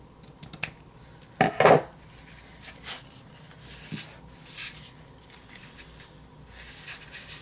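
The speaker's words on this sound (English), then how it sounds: "And I'll go ahead and cut it right there." Scissors cut through a Project Life card for a DIY craft project in one short, close snip burst, with a few faint paper handling taps before and after it.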